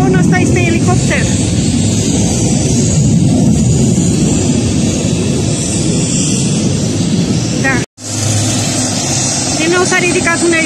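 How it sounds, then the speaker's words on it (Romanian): Helicopter lifting off at the BIAS air show at Aurel Vlaicu Airport in Băneasa, with a loud, continuous engine and rotor roar that cuts out briefly and then resumes, under voices from the crowd nearby. "S-a ridicat un elicopter"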